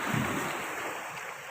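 Ocean waves wash against the Bantayan rock formation in Samar, a steady broad rush of surf with wind noise on the microphone, continuous and moderately close for the whole stretch.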